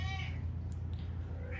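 A house cat gives a clear meow at the start and another brief, fainter meow near the end over a low steady hum.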